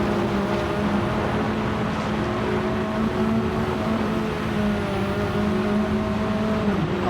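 Rallycross cars race in a video game on the Sardegna Windmills track, a dense, steady engine drone with sustained droning tones, loud and continuous.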